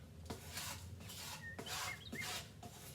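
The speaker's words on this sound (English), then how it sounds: "Kind of scrape all the excess off there." Parsley and basil scraped from a bowl into a pot, heard as quiet rhythmic rubbing and scraping strokes, close and faint, with no talk.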